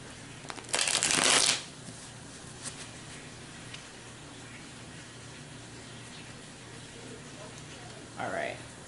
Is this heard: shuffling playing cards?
yes